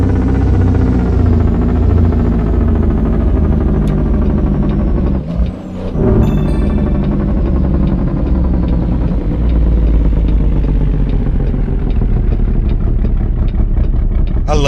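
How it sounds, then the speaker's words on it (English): Steady low engine drone of a truck in a driving simulation game, hauling goods cross-country, continuous and loud throughout with a brief dip midway. "I love that low growl of this engine."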